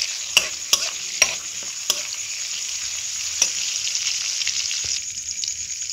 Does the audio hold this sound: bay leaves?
yes